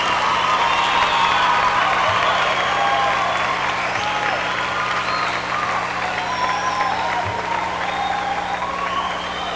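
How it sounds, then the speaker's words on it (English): Loud, sustained applause from a pageant audience, dense clapping with a few cheers and whoops, continuing steadily throughout before easing slightly at the end. "one more big round of applause for our other 5 semi-finalists this evening"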